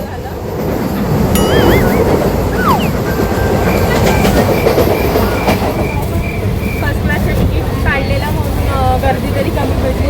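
A slow local train runs along the rails, with a loud steady rumble and clatter of wheels, occasional squeals and a brief tonal whine, heard close up from on board, with people talking under it.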